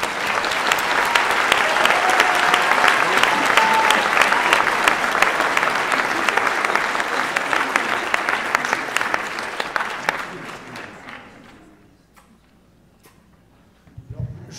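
An audience at a law faculty awards ceremony in Toulon claps loudly and steadily for about ten seconds before it thins out and dies away, with a voice starting to speak at the very end.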